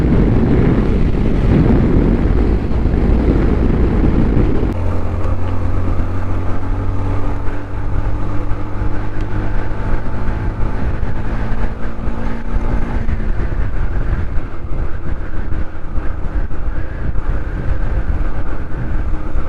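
A car engine strains at full throttle on a high-altitude Ladakh road between Hanle and Umling La, short of oxygen and barely gaining speed, its steady droning hum buried under loud, continuous wind buffeting.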